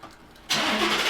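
A Ford F-150 pickup truck engine cranks and catches at about the midpoint, then settles into a steady loud rumble after a quiet lead-in.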